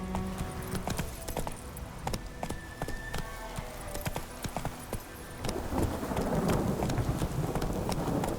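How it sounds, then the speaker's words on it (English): Hooves of the horse Roach clip-clop in a steady galloping rhythm in The Witcher 3: Wild Hunt, close and fairly loud, with a rumbling, rain-like wash of ambience building beneath them toward the end. "Come on, Roach."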